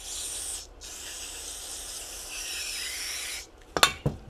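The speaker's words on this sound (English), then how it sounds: "I just sprayed solvent in the air and I'm generating a spark by doing that" Solvent cleaner sprayed into the air in a workshop while cleaning an E90 VANOS solenoid: a steady loud hiss lasting several seconds with a brief break, followed by a few sharp clicks and rattles near the end.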